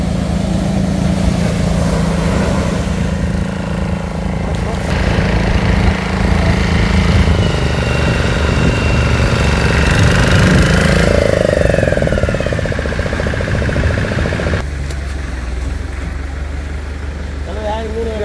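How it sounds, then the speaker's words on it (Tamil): A fishing boat's motor rumbles steadily as it comes in to land at Nainar Kuppam beach in Chennai, a loud, continuous drone with shifting tone beneath ambient beach noise and occasional voices. "பார்த்தீங்கன்னா இன்னொரு போட் வருது,"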